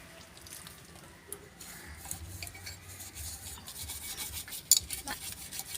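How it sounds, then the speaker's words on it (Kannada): Cooking pots being washed by hand on the floor rather than in a sink, with quiet rubbing and scrubbing, soft water sounds and a few light metallic knocks, close and faint. "ಈಗ ನನಗೆ ಪಾತ್ರೆ ತೊಳೆಯಲಿಕ್ಕೆ ಇದೆ"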